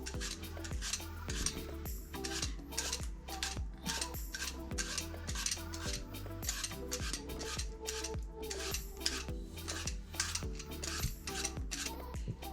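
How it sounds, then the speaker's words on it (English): A knife peels an apple for apple crisp with steady, rhythmic scraping and cutting strokes, close and continuous for several seconds, with no talk. "what you do is you peel the apple"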